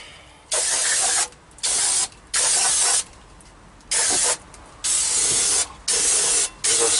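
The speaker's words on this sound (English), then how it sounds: "I'll just give them a spray down." Aerosol brake cleaner is sprayed onto petrol blower parts in a series of hissing bursts of varying length, some short and some lasting over a second, close up with quiet pauses between them.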